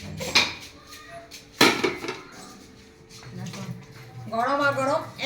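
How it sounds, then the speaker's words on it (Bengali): Hot rice is served from a pot with utensils, producing a few sharp metallic clinks and scrapes at close range. A person talks throughout between the clatters. "আগে ভাতটা বেড়ে নিই।"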